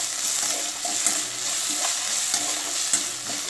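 Ginger garlic paste sautéing in oil for a cauliflower curry gives a steady close sizzle, with light stirring scrapes cutting through now and then.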